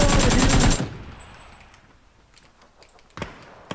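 A rapid burst of automatic gunfire in a video game, dense and loud, then fades into quiet with a couple of sharp single shots.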